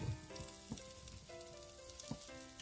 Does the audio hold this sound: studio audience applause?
no